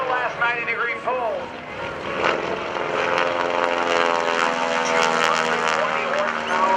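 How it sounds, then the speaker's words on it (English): Radial engine of a 220-horsepower Stearman PT-17 biplane trainer droning steadily through a low square loop at an airshow, a loud, sustained propeller roar that rises slightly in pitch, with a commentator talking over it. "This is the non-Super Stearman square loop."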